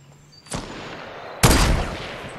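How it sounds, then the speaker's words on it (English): Two loud, close gunshot bursts in Fortnite, the second heavier and followed by a ringing, echoing tail, with no talking. "Somebody shooting right beside us."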